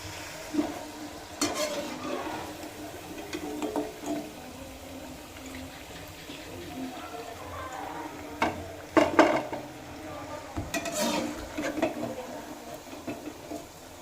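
Chicken pakoras crackle softly in oil over a very low flame, a quiet bubbling hiss broken by several louder scraping bursts as a spoon stirs them through the pan; no one speaks.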